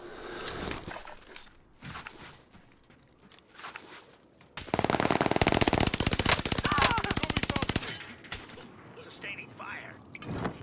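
Sustained automatic gunfire in a battle royale video game: dense, rapid bursts that blaze loudly for several seconds mid-clip. Quieter game sounds and a voice come before and after.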